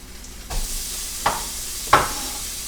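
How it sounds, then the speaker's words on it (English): Fish fillet omelette sizzles in a hot pan with a steady broadband hiss, punctuated by a few sharp crackles and pops from stirring. "It's sizzling."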